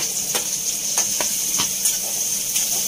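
Crushed garlic and green chilies frying with asafoetida in a pan, a steady hiss of sizzling oil broken by several sharp spatula scrapes and stirring clicks.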